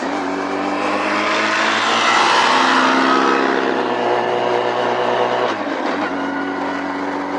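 A 2025 Honda CB1000 Hornet SP four-cylinder motorcycle engine holds a loud, steady high-revving drone close by, its pitch rising and easing slightly before dipping briefly near the end, with no talk.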